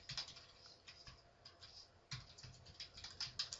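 Fingers tap at a computer keyboard in quick, uneven bursts of light clicks, quiet and close, with no voices.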